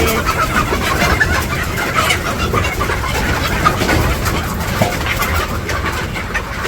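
Chickens cluck and fuss inside a village coop in rural Bangladesh, a dense, continuous din of hens close by with no pauses across the whole stretch.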